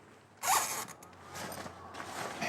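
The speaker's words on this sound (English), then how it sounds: "and zip it up around" A zipper is drawn closed around a bag of hockey gear, starting with a sharp loud zip and followed by softer, uneven zipping strokes, close by with no speech.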